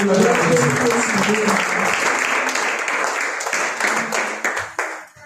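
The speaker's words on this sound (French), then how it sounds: "Applaudissons très fort pour la gloire de Jésus." A church congregation at a Sunday service claps loudly and steadily in a dense, continuous wave, with voices mixed in, before the applause tapers off at the end.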